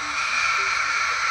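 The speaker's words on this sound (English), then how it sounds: "You're a large green bird, but we do not need your 2 cents, dude." A large green pet bird, apparently a parrot, lets out a steady raspy screech that holds for over a second, loud and close, with no talk over it.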